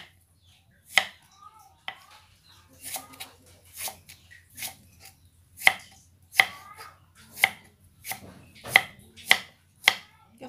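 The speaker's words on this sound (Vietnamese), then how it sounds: "bây giờ trước tiên mình sẽ xắt cái ngó sen này ra nha các bạn. Mình sẽ xắt mỏng nó ra ha." A kitchen knife thinly slices fresh lotus root on a cutting board, giving a series of crisp, close chopping strokes in an uneven rhythm, growing steadier toward the end, with no talking.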